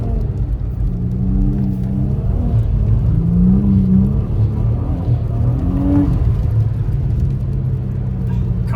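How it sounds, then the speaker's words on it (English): A car engine heard from inside the cabin while driving, a steady loud low rumble whose pitch rises and falls as it revs through gears, with no talking. "Car sounds so interesting in the interior."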